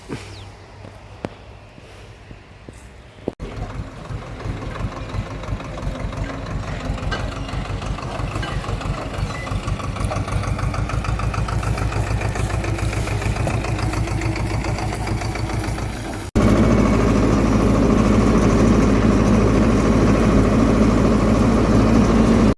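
A tractor engine runs with a steady, rumbling idle throughout; it grows louder and rougher toward the end, with no talking.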